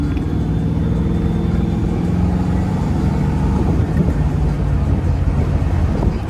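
A 1974 Buick LeSabre pro touring car drives down the road, its steady low engine and road rumble loud and continuous with some wind noise, no voices.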